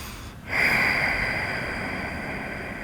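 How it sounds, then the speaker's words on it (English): A long, steady breath is drawn in through the nose during a beginner yoga stretch, a close airy hiss that starts abruptly and carries on evenly for a couple of seconds. "breathe through the chest, breathe through the belly, breathe through the nose."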